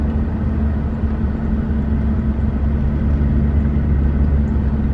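A Maserati driving along a road into Oakdale, Tennessee, giving a loud, continuous low engine and tyre rumble from inside the car, steady with no speech.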